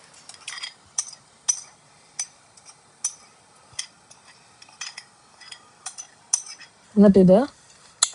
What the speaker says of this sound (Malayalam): നല്ലവണ്ണം മിക്സ് ചെയ്ത് ഇതിലെല്ലാം പിടിക്കത്തക്ക രീതിയിൽ മിക്സ് ചെയ്ത് കൊടുക്കുക